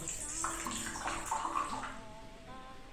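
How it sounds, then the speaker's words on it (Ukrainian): Liquid poured from a Jumbo thermos through a partly unscrewed lid, a steady close trickle and splash lasting a few seconds, quiet, with a voice faintly underneath. "Спеціальна конструкція кришки дозволяє наливати рідину, не відкручуючи повністю кришку."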